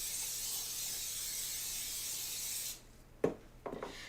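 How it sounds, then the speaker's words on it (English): A cooking spray hisses steadily onto a metal financier mold for nearly three seconds, then cuts off, followed by a couple of short clatters as the pan is handled. "If you use a metal pan, do not forget to grease it. I'm going to quickly use a spray."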